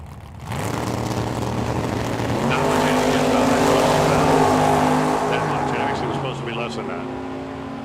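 Drag race between a Ford Falcon and a Chevy Nova at a track, a loud sustained engine roar rising and holding near, with crowd and announcer voices mixed underneath.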